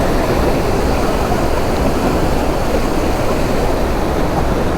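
Water rushes out of Saradgi dam near Kalaburagi, where the gates are damaged. It makes a loud, steady, unbroken roar that fills the whole stretch without pause and with no voices.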